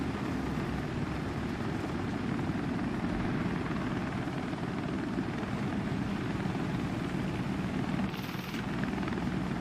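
A helicopter in the video game Wardogs drones steadily throughout, a dense continuous rotor and engine rumble at even loudness with no talking.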